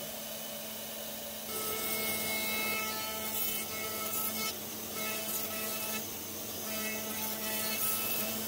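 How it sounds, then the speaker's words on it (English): Sanding factory-oiled wooden boards for a wine rack produces a steady, faint, rough scratching hum that grows slightly louder after the first moment and keeps going without pause. "I still wanted to give a small basic sanding to all these pieces"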